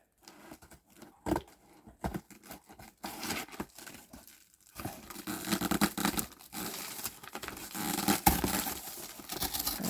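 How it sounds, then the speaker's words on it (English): A cardboard box from a Dooney & Bourke purse unboxing being torn apart by hand, with close ripping and crinkling that starts sparse and halting, then turns into steady, louder tearing. "I guess I'll go ahead and tear up the box."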